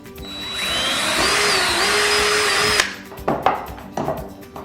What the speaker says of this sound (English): We're gonna pre-drill right here.